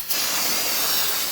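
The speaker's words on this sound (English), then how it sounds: "Use some brake solvent." Brake solvent hisses out of an aerosol can in one continuous burst sprayed onto a wheel hub during a rear brake job on a 2007-2014 Cadillac Escalade, loud and close.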